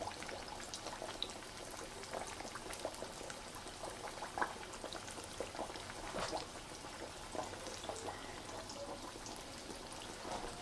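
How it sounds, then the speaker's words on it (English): Chicken breast pieces fry in hot oil with a continuous soft crackling sizzle, steady and fairly quiet throughout with scattered tiny pops. "So we're going to let that fry."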